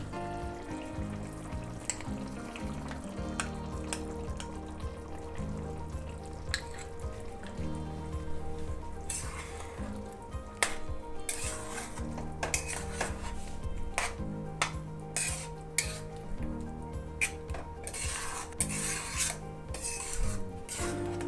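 A ground paste of coconut, cashew and poppy seeds hits chicken korma frying in a pan, giving a steady sizzle with scraping, rasping stirs and scattered clicks, all under continuous background music.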